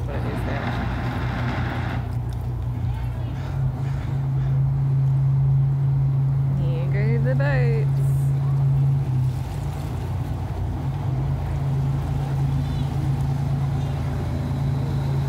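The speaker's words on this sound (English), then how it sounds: "They switched on the engine." Boat engine idling in the Hiram M Chittenden canal locks, a steady low drone throughout with a rising whistle-like tone midway, voices talking over it.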